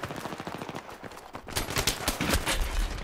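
Rapid bursts of automatic gunfire in Battlefield 3 on PS3, dense cracking shots that grow louder and more continuous partway through, with no talking.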